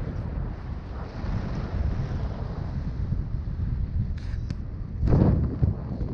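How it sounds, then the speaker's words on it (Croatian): Strong wind roars across the microphone aboard a boat moving at speed in about 25 km/h winds off the Istrian coast near Poreč, a loud, steady buffeting rush with a heavier gust near the end and no talk. "toliko je jak vjetar"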